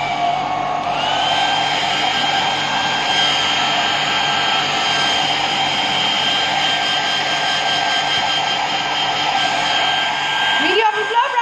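A hair dryer on fast speed and medium heat blows steadily while hair is dried, a loud, continuous whooshing drone that runs almost the whole time and cuts off near the end.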